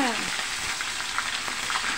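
Continuous hiss and crackle of tilapia frying in oil, close and loud, with scattered pops and no voices.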